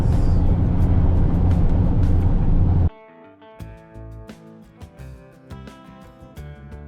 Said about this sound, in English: Still with a lot of traffic and a lot of trucks.